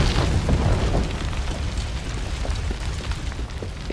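Fire bursting in the video game Assassin's Creed Unity, heard as a steady, loud roar of flames with low rumbling booms, strongest at the start and continuing without a break.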